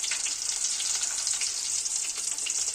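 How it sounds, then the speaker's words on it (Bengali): Nigella seeds (kalo jeere) dropped into hot oil on a low gas flame, giving a steady, close, crackling sizzle with fine popping throughout and no voices. "তো তেলটা বেশ গরম হয়ে গেছে, এবার দিয়ে দেবো কালো জিরে।"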